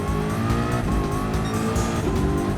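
A race car in Gran Turismo 7 brakes hard, with continuous loud engine whine and screeching tire squeal under heavy braking, dense and unbroken.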